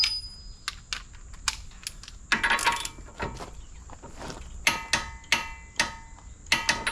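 Sharp metallic clicks and clanks from a wrench tightening a car axle nut come in irregular bursts, loud and close, with a short ratcheting flurry partway through and no talk.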